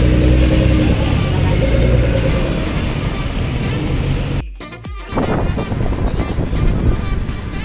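Nissan GT-R driving in slow city traffic near a seaside mall, a steady close engine and road rumble with a brief dip midway, then the drone resumes.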